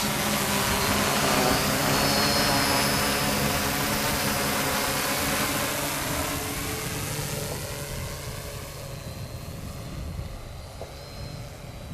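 Homemade 650mm H-frame quadcopter built from pine wood with 630 kV motors, flying outdoors in the cold, a steady buzzing whine of the rotors that holds loud, then fades and shifts in pitch as it maneuvers away.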